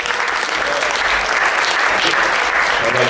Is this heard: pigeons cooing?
no